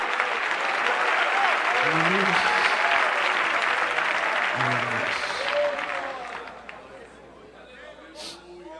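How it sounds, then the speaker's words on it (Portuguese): A church congregation applauds in a loud, sustained wash of clapping, with voices rising over it, before the applause gradually thins and fades away. "Se você crê nisso, aplauda ao Senhor"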